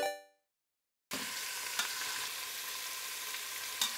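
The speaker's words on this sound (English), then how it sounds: "You can just brown on a couple sides." Pork belly browns in a hot pan, giving a steady, close sizzle and crackle with a couple of brief sharper pops, after a short silent gap at the start.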